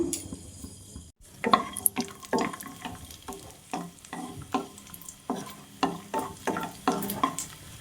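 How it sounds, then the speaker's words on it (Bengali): Cashews and raisins fry in ghee in a hot pan for a sweet potato sabudana payesh, with a soft sizzle broken by repeated rhythmic scraping strokes of a stirring spoon, close and without talk. "কাজু কিশমিশটা ভেজে নেব"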